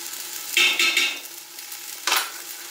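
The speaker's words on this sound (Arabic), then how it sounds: "et je commence à remuer un petit peu" Ginger and turmeric sizzle in oil in a pan while being stirred, a few scraping swishes over a quiet steady crackle, close and fairly soft, with no voices.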